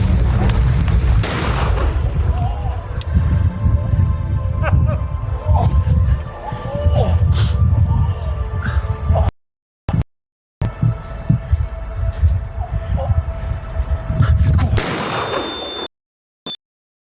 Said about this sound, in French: Suite à de nombreux coups de feu